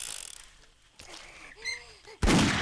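Gunfire aimed at a horde in 7 Days to Die, Alpha 12.3 during a day 42 mega horde: a couple of sharp game shots and mechanical clicks, ending in a loud burst of blasts.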